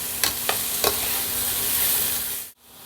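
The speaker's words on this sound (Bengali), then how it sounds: "পেঁয়াজটা লাল লাল করে ভাজবেন না একটু হালকা ভাজা করবে" Steady, gentle sizzle of onions frying lightly in oil, with a few light stirring clinks near the start, then the sound cuts off abruptly.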